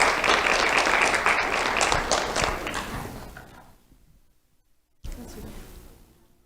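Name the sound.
round of applause for award recipient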